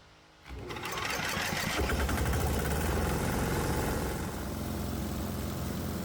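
A diesel engine fitted with a vaporizer cranks and catches after a brief quiet moment, then runs with a loud, steady, rapid mechanical clatter that eases slightly near the end.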